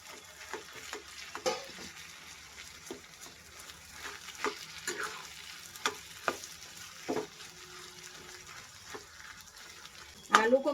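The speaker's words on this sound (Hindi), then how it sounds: "आलू को मैंने मसालों के साथ अच्छे से मिक्स कर लिया है।" Boiled potato being stirred and mixed with spices in a pan, giving soft scraping and light sizzling strokes at an irregular pace, fairly faint, with a louder clatter near the end.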